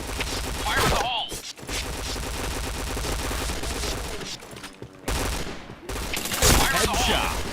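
Rapid automatic gunfire rattles almost continuously in a shooting video game, with dense bursts and a few brief pauses, loud and close, broken by short game voice callouts.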